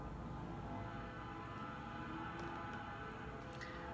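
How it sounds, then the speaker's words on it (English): A train passes near the railway tracks downtown, a steady low rumble and rolling clatter that fills the scene at a moderate distance, with faint higher squeals near the end and no talking. "Oh, you can hear the train."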